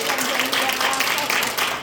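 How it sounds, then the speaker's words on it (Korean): An audience at a Korean church talk applauds, a dense, continuous burst of clapping that fills the short moment without pause. "박수 한번 주세요"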